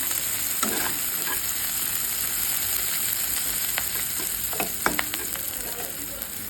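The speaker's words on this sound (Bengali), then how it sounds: "সুন্দর করে পেঁয়াজটা আমরা ভেজে নেব" Onion frying in a pan, a steady broadband sizzle held at close range, with a few sharp spatters and scrapes of stirring breaking through toward the middle.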